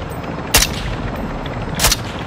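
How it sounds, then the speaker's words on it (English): Gunfire from the Call of Duty DMZ video game: two sharp, loud shots spaced about a second apart, likely sniper rounds, over a steady background of in-game ambience. "You are taking effective fire"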